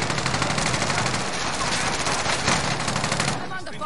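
Rapid automatic gunfire from a video game rattles in one continuous, loud burst for several seconds before cutting off near the end.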